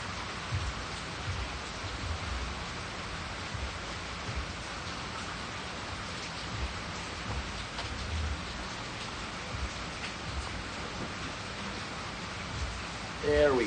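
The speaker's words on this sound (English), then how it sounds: "We're having a very heavy, steady rain." Heavy, steady rain pours outdoors on a cold day. The hiss is constant and dense, close to the microphone, with no voices over it.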